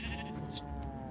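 A sheep in the video game Minecraft gives a short, quiet bleat, a single wavering baa heard close and alone.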